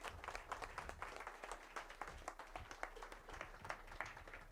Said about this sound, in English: So round of applause, thank you.